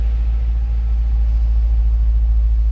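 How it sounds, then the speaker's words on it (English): A 2008 Dodge Challenger SRT8 idles, a deep, steady dual-exhaust rumble droning continuously and close, with a low throbbing pulse. "A little rumble coming out of that dual exhaust."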